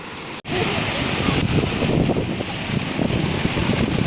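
Continuous rushing surf of ocean waves breaking on a beach at Tondaligan Beach, loud and close, with wind buffeting the microphone throughout after a brief cut at the start.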